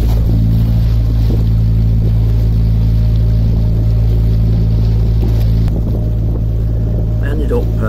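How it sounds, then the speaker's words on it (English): Narrowboat diesel engine running at sea in rising waves while crossing the Wash, a loud steady low drone with a tonal hum throughout and a shift in the engine note near the end as the stern lifts from the water. "You can hear the engine note change as the back end comes out of the water."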